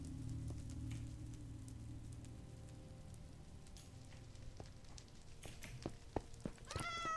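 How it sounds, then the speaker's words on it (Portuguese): A cat meows in Minecraft Bedrock Edition as short, faint cries over a steady rain-like background, with a few brief clicks near the end. "Será que a gente consegue pegar aquele gatinho ali?"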